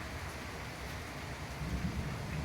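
A dense, steady hiss of heavy rain pours down without pause over flooded farm fields, with a faint low rumble underneath and no voices.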